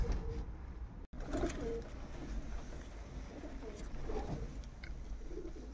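Pigeons coo softly nearby, low throaty calls rising now and then over a dull background rumble, with no clear talk.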